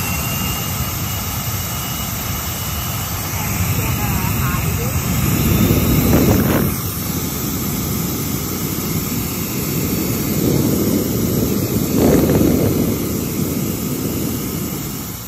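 An NBF902 pet grooming dryer blows air in a steady, loud rushing whoosh with a high motor whine, swelling in two broad surges of airflow around the middle and later part.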